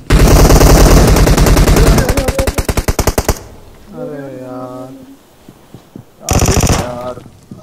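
Rapid automatic gunfire from a PUBG match at Pochinki, loud close bursts for about three seconds, a pause with a voice talking, then another short loud burst.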